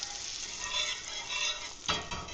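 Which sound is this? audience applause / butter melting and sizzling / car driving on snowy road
butter melting and sizzling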